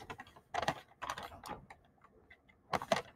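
Keyboard keys tapped in short irregular bursts, close and fairly quiet, with brief pauses between clusters of keystrokes and no talking.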